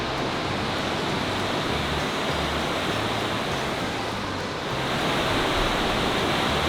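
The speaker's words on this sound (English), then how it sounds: "there's also another couple hundred meters of raging rapids ahead" Raging river rapids in a Canadian canyon roar as a steady, dense wall of rushing whitewater, continuous and loud throughout with no voices.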